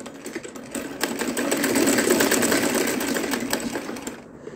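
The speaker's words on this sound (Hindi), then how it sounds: "अब हम इस पे यहाँ से सिलाई कर देंगे।" A sewing machine runs steadily, stitching cloth for a roti napkin, a continuous close whirring hum that swells slightly mid-run and stops at the end.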